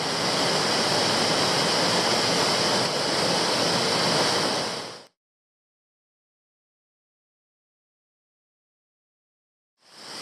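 Steady, rushing roar of Burrabumba Falls on the Toolona Creek Circuit in Queensland, loud and constant, cutting off abruptly into silence before returning briefly at the end.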